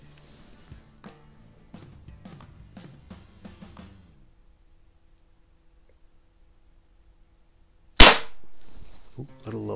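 A Crosman .22 caliber multi-pump pellet pistol fires a single sharp, loud shot after a quiet stretch, preceded by soft handling clicks and followed by a brief ringing tail.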